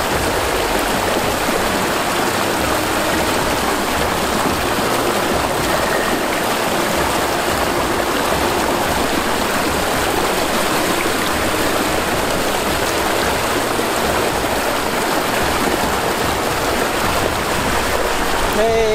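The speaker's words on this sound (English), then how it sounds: "You can see the water is coming now. As you can see, the water is coming. It starts to come from the ram pump." Water gushes continuously from a homemade hydraulic ram pump, a loud, steady rushing and splashing close to the microphone for the whole stretch.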